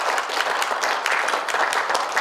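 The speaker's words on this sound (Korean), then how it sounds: "박수 한번 부탁드리겠습니다" Forum audience gives a short round of clapping, a steady dense patter of many hands at moderate level, with no speech over it.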